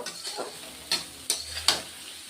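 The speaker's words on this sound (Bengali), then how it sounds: "এখন আদা রসুন টমেটো পেস্টটা কিছু এক মিনিটের মতো কষিয়ে নিব" Ginger, garlic and tomato paste fries in a pan for a rohu mustard curry, giving a soft sizzle with three or four sharp scraping stirs close by.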